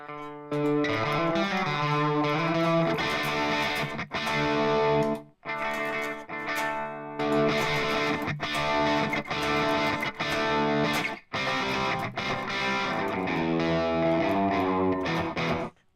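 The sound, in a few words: guitar through IK Multimedia TONEX pedal with gain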